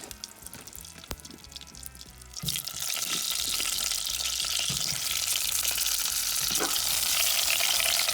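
Potatoes frying and being stirred in hot grease in a cast iron pot alongside ribeye steak, a loud, steady broadband sizzle that swells after a couple of seconds and holds strong, with occasional scraping stirs.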